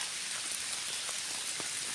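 Steady rain falling in a wet forest where porcini mushrooms grow, a continuous soft patter on leaves and ground, close and even, with no talk.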